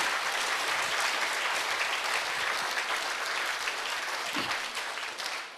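A church congregation applauds during a Korean Sunday worship service, steady sustained clapping filling the room for several seconds before tapering slightly at the end.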